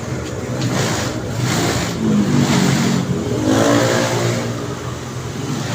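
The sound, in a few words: Mio motor scooter engine revving with strong vibration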